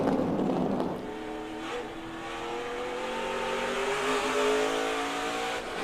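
Onboard audio from Marco Andretti's race car in a 2023 Camping World SRX Series main event at Stafford: a loud engine note climbs and holds at high revs, with a brief rougher burst near the start.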